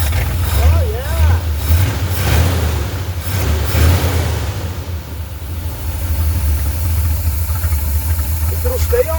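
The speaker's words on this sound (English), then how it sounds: "If it'll stay idling, let's turn the idling up a little bit." An old vehicle engine idles steadily with a low, continuous rumble close by, while people talk over it throughout.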